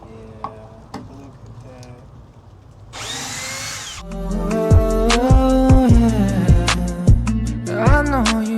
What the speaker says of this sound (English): Came with this little drill bit, this little extension.